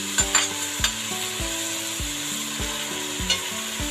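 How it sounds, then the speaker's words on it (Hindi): Chopped tomatoes, garlic-ginger paste and green chillies go into a hot pan for chana pulao and sizzle steadily, while a spoon stirs and scrapes the pan in a regular rhythm of close, clattering strokes. "इसके अंदर टमाटर जो काट के रखे हैं वो डाल देंगे।"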